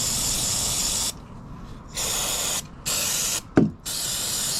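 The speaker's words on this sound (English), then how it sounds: "one last thing to do is clean it with brake cleaner" Aerosol brake cleaner sprayed on a Royal Enfield Classic 350 motorcycle: loud close bursts of bright hissing spray, starting and stopping four times with short gaps, one brief knock in between, no talking.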